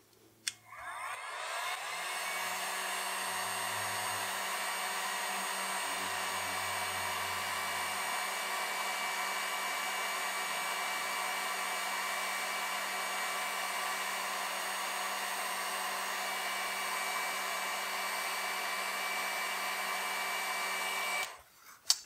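A heat gun heating acrylic tubing gives a steady, loud whirring blower hum with a constant tonal whine, running unbroken for about twenty seconds before switching off.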